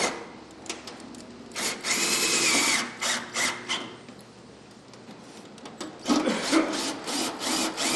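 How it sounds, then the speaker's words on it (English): A power drill driving a self-tapping screw during a fuel system install whirs in several short bursts, starting and stopping as it bites into material, with scraping and handling noises between runs. "start our drill to get the self-tapping screw"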